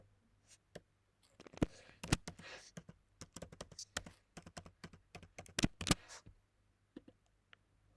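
A username and password are typed on a computer keyboard in quick, uneven bursts of close, crisp key clicks with brief pauses, fairly quiet overall.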